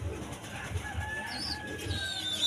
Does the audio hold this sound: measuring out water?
no